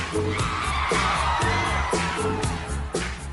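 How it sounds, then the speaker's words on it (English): A concert crowd at a pop performance cheers and screams continuously, a dense roar of whoops sitting over the song's loud, pulsing bass-and-drum beat. "The crowd is losing their mind all the way through"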